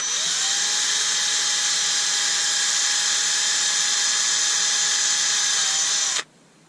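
A power drill drilling into wood side grain whines steadily at high speed for several seconds, loud and close, then cuts off abruptly into quiet.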